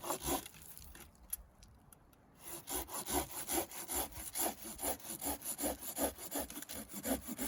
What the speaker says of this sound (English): take your saw and to cut off a branch at a place where where it's nice and smooth all the way around